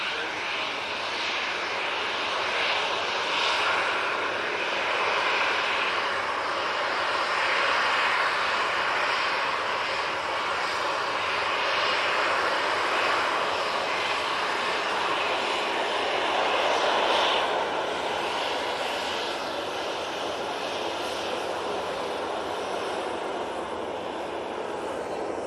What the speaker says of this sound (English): I can see the Virgin Atlantic just coming up to Stockport now